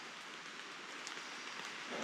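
Steady morning rain falls on an outdoor camp, a soft, continuous hiss of drops on surfaces, faint and even throughout with no voices.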